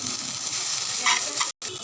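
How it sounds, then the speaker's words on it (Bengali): Kharman leaves frying in oil, a steady crackling sizzle up close with a couple of stirring scrapes and a brief dropout. "এটা সুন্দর করে তেলে ভালো করে ভেজে নিতে হবে"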